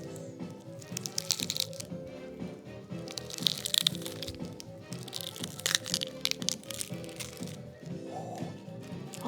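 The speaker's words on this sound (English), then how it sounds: "Do you want some peely onion ASMR?" An onion being peeled by hand in a home kitchen while making shepherd's pie: dry, papery crinkling and crunching of the skin, close and continuous, with no talking.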